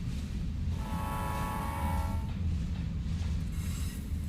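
Train rumbling past with a steady low roar and a sustained whistle-like horn tone sounding through the middle, fading near the end; no talk.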